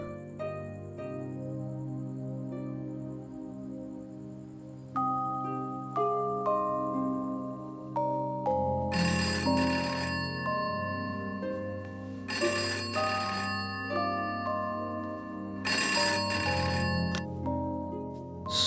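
A telephone rings in repeated bursts over a steady, tonal background hum, each ring loud and close.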